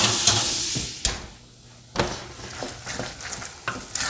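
Pork chops sear in a pan with a hissing sizzle, broken by clanks and scraping thuds from handling the pan or turning the meat.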